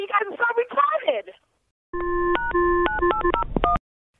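Telephone dialing tones play during a call transfer to a store pharmacy: a rapid sequence of touch-tone beeps, loud and close, following a stretch of angry talk.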